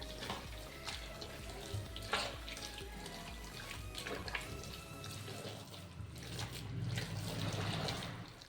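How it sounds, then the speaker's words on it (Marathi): Boiled water pours steadily into a sabudana chakli mixture in a pot, a continuous splashing stream with faint stirring and clinks throughout, no speech. "ते पाणी आपण छान या मिश्रणामध्ये आता मिक्स करून घेऊया"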